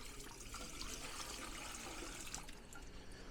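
Leftover antifreeze from winterizing is poured out of the water filter canister of an Alliance Delta 252RL RV, a steady close splashing and trickling stream that runs throughout without talk.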